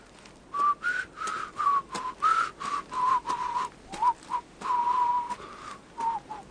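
A person whistles a simple tune in a run of short and held notes with brief gaps between phrases, clear and fairly close, with no talking.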